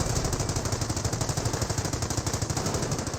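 Machine-gun fire raking a support weapon center in the strategy game Company of Heroes, a steady rapid burst of evenly spaced rounds, loud and continuous throughout with no talk.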